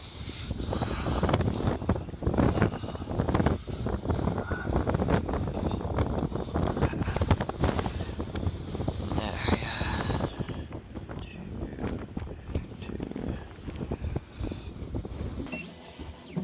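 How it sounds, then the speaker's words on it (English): Strong outdoor wind buffets the microphone continuously at a dairy farm, a loud rushing roar with gusty fluctuations throughout. "It's freaking windy out here."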